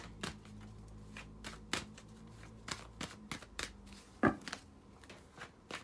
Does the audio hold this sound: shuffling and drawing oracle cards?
yes